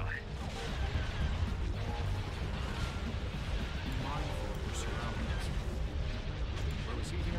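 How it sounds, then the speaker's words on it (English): Starship turbolaser cannons firing during a space battle in the video game Star Wars: Republic at War, a dense, continuous roar of overlapping blasts and booming explosions with voices talking over it. "Pretty much every ship blasting full cannons"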